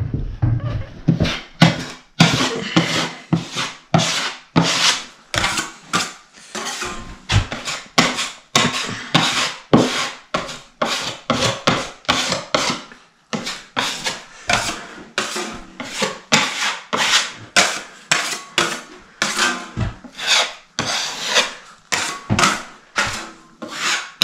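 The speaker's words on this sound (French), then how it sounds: "on profite pour reboucher les trous de vis avec l'excès que j'ai récupéré" Joint compound scraped and smoothed over screw holes in plasterboard with a filling knife, a close, steady run of rhythmic rasping strokes, one after another, with no talk.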